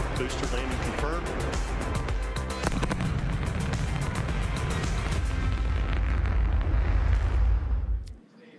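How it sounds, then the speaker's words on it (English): Sonic booms from a returning SpaceX Falcon side booster landing roll through a room as a loud, sustained rumbling barrage, heavy low booming that builds toward the end before cutting off abruptly. "Just heard the 2 sonic booms here in the room."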